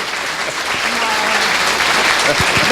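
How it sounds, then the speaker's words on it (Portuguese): An audience at a state tax officials' conference breaks into brief, dense applause that stays loud and steady throughout, and a voice can be heard speaking over the clapping. "Para palmas para Casaroto."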